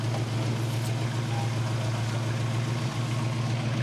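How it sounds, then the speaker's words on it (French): A car's exhaust gives a steady, low rumbling drone that stays constant for several seconds with no talk over it. "Petit bruit d'échappement."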